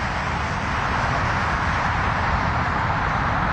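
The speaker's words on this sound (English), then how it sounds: "You heard maybe a hum from the traffic." Dense, steady roar of highway traffic heard from a residential back patio, a constant broadband rush with no breaks, fairly loud and unchanging throughout.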